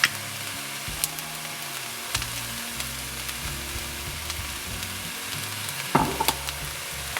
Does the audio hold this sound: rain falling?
no